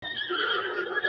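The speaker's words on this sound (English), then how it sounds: "Can we get this big horse?" A horse whinnies in The Legend of Zelda: Breath of the Wild, one clear, fairly close neigh lasting about a second.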